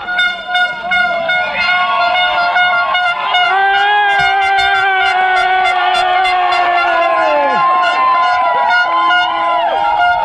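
Spectators cheer runners at the Curitiba marathon, a dense crowd din with horn-like toots and whistles rising over it, loud and close, while voices shout nearby.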